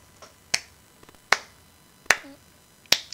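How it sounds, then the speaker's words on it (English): Slow hand clapping during a podcast recording, four sharp isolated claps spaced evenly about three-quarters of a second apart, faint and without talk. "Kind of start the slow clap there"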